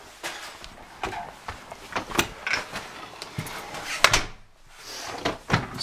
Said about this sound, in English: Speaking of closing the door